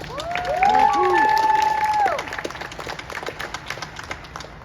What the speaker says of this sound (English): With a nice round of applause